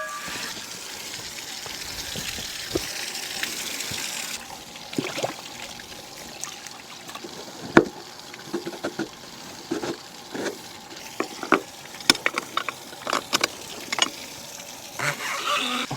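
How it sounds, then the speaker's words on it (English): Fresh water trickling into a concrete cattle trough outdoors, a steady soft flow with scattered small splashes and clicks over low background noise. "While that trough is filling away,"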